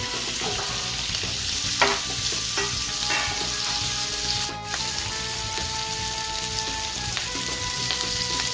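Capsicum sizzling and frying in a pan with hing, a steady bright sizzle with occasional stirring scrapes and a brief clatter near the middle.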